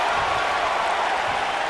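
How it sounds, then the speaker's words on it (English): Arena crowd in the video game WWE 2K19, a dense steady roar of cheering and applause that stays loud and even throughout. "I don't remember the last time I heard a more passionate crowd than the one we have here tonight."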